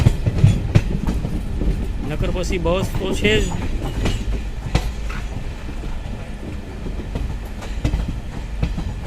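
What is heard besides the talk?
train running on rails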